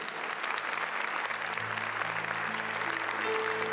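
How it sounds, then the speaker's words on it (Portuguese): A congregation claps together at a church talk on protecting the family, the applause broad and sustained at a steady level, with a faint low hum running underneath. "Se você quer aplaudir, aplauda, mas aplauda para valer."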